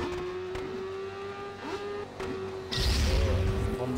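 Motorcycle engine in the Motorcycle Club video game, with a steady whine and a louder surge of turbo boost near the end, no talk over it.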